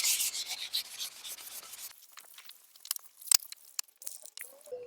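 Fine 600-grit sandpaper rubbed over a ceramic kamado grill, giving a steady close scratchy rubbing for about two seconds, then sparser, fainter strokes with a few sharp scuffs.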